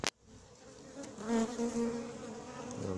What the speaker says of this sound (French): on voit quand même plus d'abeilles noires que j'aurais pensé.